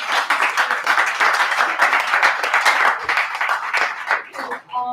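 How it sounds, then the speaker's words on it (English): Audience clapping and cheering for a comedian coming to the stage at an open mic night in a brewery, dense steady applause that fades toward the end. "Give it up for Mitten."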